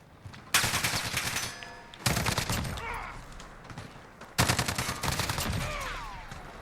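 An L85A2 bullpup assault rifle fires in Call of Duty Modern Warfare: three loud, close bursts of rapid automatic shots, each trailing into short echoes and shell-casing pings.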